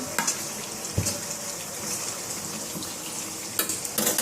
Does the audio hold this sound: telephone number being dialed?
no